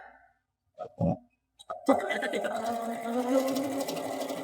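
A sewing machine stitches pieces of a fall quilt block together. A few short bumps and a voice come first, then the motor settles into a steady, close, continuous whirring run.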